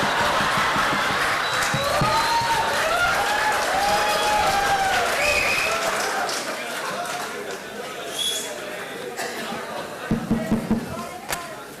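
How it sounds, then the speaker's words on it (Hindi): Audience applause at a live comedy mono act, a loud sustained wash of clapping under talk and crowd chatter that thins out toward the end, with a few sharp claps near the close. "आप लोगों से गुजारिश है कि बीच बीच में तालियां जरूर बजाएं"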